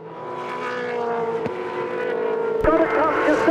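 A 2005 V8 Supercar at Bathurst easing off full throttle, a steady droning engine note under a commentator's voice, with a sharp click and a shift in pitch near the end.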